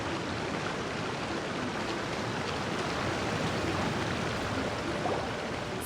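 Steady waterfall rushing in Genshin Impact, a continuous broadband wash of falling water, loud and close, holding constant without breaks or voices.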